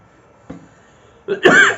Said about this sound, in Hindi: सॉरी, थोड़ी सी खांसी है